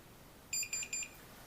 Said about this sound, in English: Press and hold that for about 15 seconds until you hear some beeping